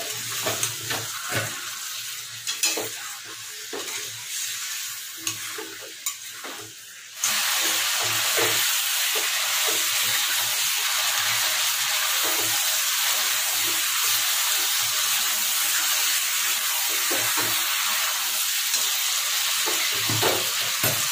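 Mutton bhuna in a pan lets out a loud, steady hiss and sizzle that jumps sharply when water goes in, then holds as a constant bubbling roar with faint stirring clinks and no talk.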